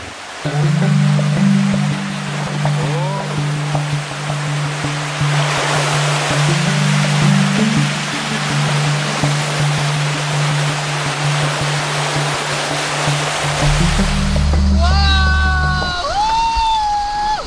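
Loud river rapids roar continuously, dense and close, with a steady low motor hum under it and brief electronic tones near the end; rafting in Aik Berik, Lombok.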